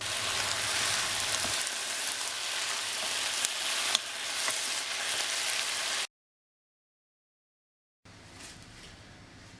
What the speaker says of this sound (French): Faites revenir les champignons pendant 1 minute avec un peu d'huile d'olive.